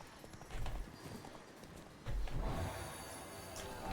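Roach the horse from The Witcher 3 galloping, with steady clip-clop hoofbeats across the whole stretch, loud and close, a heavier thud-laden surge partway through.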